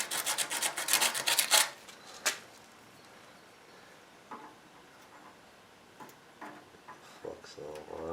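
Scraping sandpaper strokes on a truck radiator being repaired for a 1973 Ford F-250, a quick series of rasping rubs up front followed by sparse, faint scuffs and small knocks in a quiet room.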